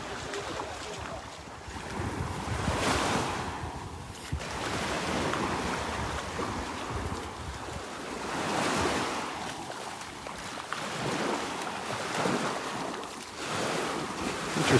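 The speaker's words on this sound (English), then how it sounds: "Interesting how these little waves are rolling onto the beach." Small waves roll onto the sand at Vanderbilt Beach in Florida, a continuous wash of surf rising and falling in gentle swells, blended with heavy wind buffeting the microphone, without speech.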